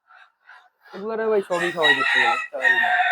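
Native chickens crowing and clucking close by on a farm, a few short calls followed by a long, loud rooster crow with more squawks after.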